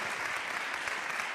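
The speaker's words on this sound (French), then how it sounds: "vous pouvez l'applaudir" Audience applause for a live music performance broadcast from a reception hall at Paris city hall, a dense, steady wash of clapping filling the whole moment with no voices over it.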